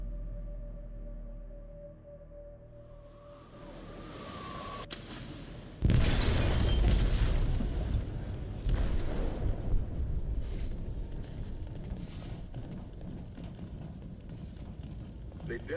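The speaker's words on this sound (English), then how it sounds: "They detonated an explosive in the hold" A loud explosive detonation erupts in a ship's hold in Detroit: Become Human, a sudden broadband blast followed by sustained rumbling, crackling debris and chaos over earlier quieter tones.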